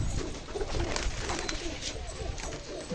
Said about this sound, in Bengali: এই যে এই সব ফুলশিরা পায়রাগুলো আমার ঘরের।